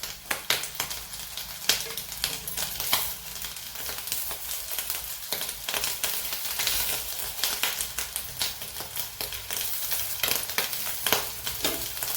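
Balls of fasting-recipe batter frying in hot oil in a pan, a steady crackling sizzle with scattered pops and occasional stirring scrapes, fairly soft and continuous with no talking.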